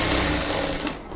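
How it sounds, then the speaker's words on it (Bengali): A sewing machine runs steadily, stitching folded salwar fabric in a continuous close whir that fades out at the end. "এই কাপড়টাকে আমরা ফোল্ড করে জাস্ট একটা সেলাই দিয়ে রাখবো"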